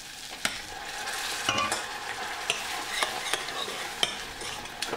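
A spoon stirs a slurry of flour and boiled lentils ladled from the pot for lentil soup, a steady scraping and sloshing with a few sharper clicks against the bowl, close and alone.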